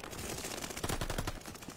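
Rapid gunfire from a ranked online shooter game, a dense continuous burst of automatic shots filling the whole stretch at steady loudness with no voice over it.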